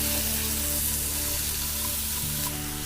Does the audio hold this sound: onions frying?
yes